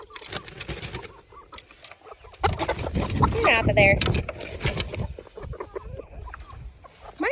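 Backyard chickens cluck and chirp in a homestead coop shaded with tarps, several short bird calls in the middle of the clip, close by and mixed with a person talking.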